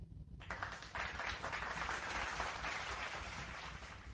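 A burst of crowd applause starts suddenly and holds at a steady, dense level of many hands clapping.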